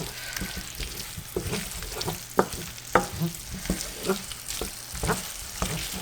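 Teriyaki chicken and noodles are stirred in a pan over medium-low heat, giving scraping utensil knocks and clatters over a soft, continuous sizzle, close up and without talking.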